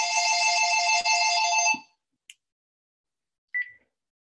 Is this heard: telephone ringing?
yes